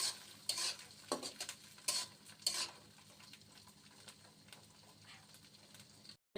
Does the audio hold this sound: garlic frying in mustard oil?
yes